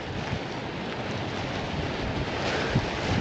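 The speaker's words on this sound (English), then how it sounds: "It's getting even more windy." Steady wind roars and buffets against the microphone throughout, a constant broad rushing noise outdoors with no voices.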